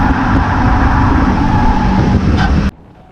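Race cars on track just after a restart, a loud, steady roar of engines that abruptly cuts out near the end.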